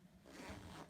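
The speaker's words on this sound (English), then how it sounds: "open it up and pull your zipper" A zipper is pulled open on a fabric zipper pouch during machine sewing, a single quiet continuous rasp lasting about a second with no talking.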